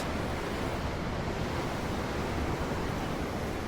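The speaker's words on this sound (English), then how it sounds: "I'm looking at the ocean. The ocean? Yeah. The waves." Steady ocean surf from Tales of Arise, a dense continuous wash of breaking waves heard from aboard a ship, loud and unbroken with no voices over it.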